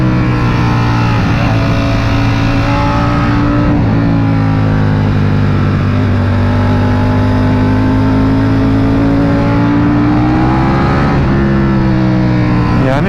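Sport motorcycle engine while riding, a Ducati Panigale V4 or Aprilia RSV4, droning loud and close with a steady multi-toned whine that dips and climbs as the revs shift, over constant wind rush.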